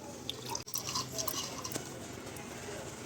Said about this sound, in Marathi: तर अशा पद्धतीने हा घट आपल्याला पाण्याने धुवून घ्यायचा आहे